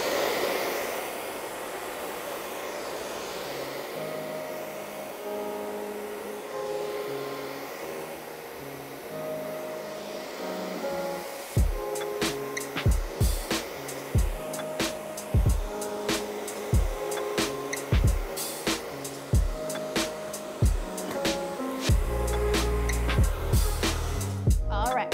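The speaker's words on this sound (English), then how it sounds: "So now I'm gonna grab my blow dryer, and I'm going to just go along just that area and dry it with a blow dryer" A blow dryer runs over hairspray-coated hair during salon styling, a steady whirring hum close to the mic, joined in the second half by a run of sharp clicks and taps.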